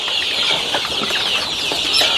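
Mysore native chickens on a poultry farm cluck and chatter loudly and continuously nearby, many birds overlapping at once.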